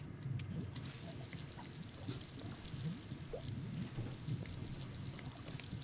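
Water trickles and drips from a faucet in a LittleBigPlanet 3 sink build, a steady soft wet patter with scattered drops running throughout, moderately loud and alone with no voices.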